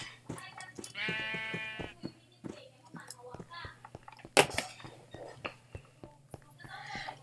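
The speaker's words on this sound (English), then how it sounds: "Get out of my way, sheep." Sheep in the video game Minecraft bleat in short bursts among clicks and game noises, while someone talks quietly and whispers over them.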